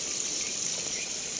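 Free-flowing mountain water running at a private resort, a steady continuous rush and trickle close by with no other sounds.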